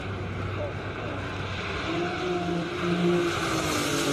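A turbo Porsche race car climbs a hill-climb course, its engine a steady distant drone that swells louder toward the end, with no talk over it.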